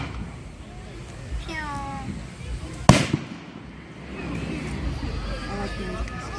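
Fireworks at a July hometown Independence celebration: one sharp, loud bang bursts out and crackles away, with softer whistling launches before it and distant crowd chatter and voices around it.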